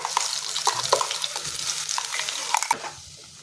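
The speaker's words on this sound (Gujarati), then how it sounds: "આપણે તેલમાં સરસ રીતે આપણે ડુંગળીને અહીંયા સાતળી લઈશું" Ground onion paste frying in hot oil with bay leaf and asafoetida, a close, crackling sizzle broken by scraping stirs, fading near the end.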